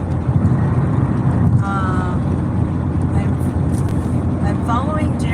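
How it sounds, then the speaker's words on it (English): Steady low road rumble and wind roar inside a car driving on a highway, loud and continuous, with a voice talking over it. "A lot of background noise. I'm on the highway."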